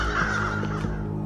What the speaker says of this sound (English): Haha, scary crows.